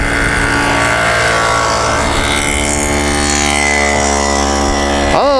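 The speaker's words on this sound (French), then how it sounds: "Tiens, la première mob qui repasse. Ah, les Solex." Solex mopeds on the Chambley circuit drone past with a steady buzzing engine whine that holds, then sweeps sharply in pitch as one passes close at the end.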